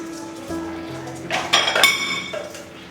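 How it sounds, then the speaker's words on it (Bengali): A lid is lifted off a pot of cooking mourola fish: a low steady kitchen hum, then a burst of close metallic clinks and scraping rattles over about half a second before it settles again. "আমি ঢাকাটা খুলে একবার দেখছি কতটা হলো"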